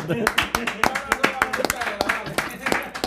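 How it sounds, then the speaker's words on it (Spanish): Audience applause in a Spanish-language interview, brisk sharp claps in a steady patter lasting about three seconds, close and moderately loud. "Un aplauso más"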